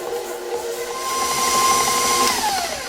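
An electric mixer creams cream cheese with sugar, its motor giving a steady high whine that holds pitch, then slows and drops near the end.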